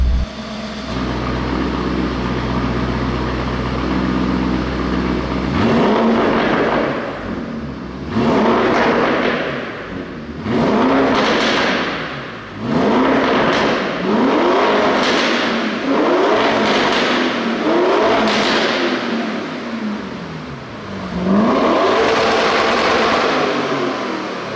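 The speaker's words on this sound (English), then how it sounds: "the exhaust is really loud." Loud Lamborghini Urus exhaust revving repeatedly, about seven sharp roaring blips in an uneven rhythm over a low idle, close and aggressive.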